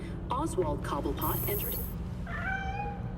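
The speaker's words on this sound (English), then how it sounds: "Aw, that sounds like a stray cat." A stray cat meows a few times in the Gotham Knights video game, close and clear, with a drawn-out, wavering meow toward the end, while a person talks over the first part.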